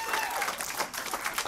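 A comedy show crowd breaks into brief, moderately quiet applause, a steady patter of many hands clapping at once.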